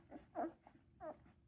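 Great Dane puppies in a small litter nursing, giving soft, short whimpers and squeaks in a few separate bursts, close by and quiet, with no talking.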